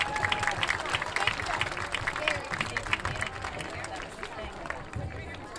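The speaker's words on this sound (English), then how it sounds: "Please give a round of applause for Eli Maidman." Crowd applause and clapping at a high school football game's senior night, a broad steady wash of many hands from a distant crowd, gradually easing, with faint murmuring underneath.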